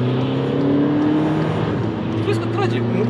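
Volkswagen Passat B6 pulling hard under acceleration on a sandy surface, a steady engine drone with rising harmonics, loud and close, while people talk over it.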